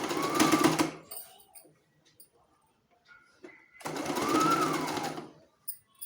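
A sewing machine stitches pleats on a baby frock in two close, steady whirring bursts of about a second each, separated by a quiet pause with faint handling clicks.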